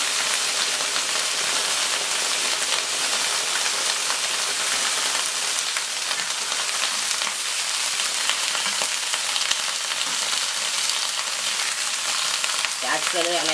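Steady loud sizzle of sake splashed onto beef and Chinese cabbage grilling Japanese-style, a dense continuous frying crackle with no talk.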